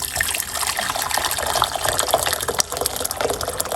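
Hot water, one cup, pours steadily into a cooking pot, a close continuous splashing gush lasting several seconds with no voices.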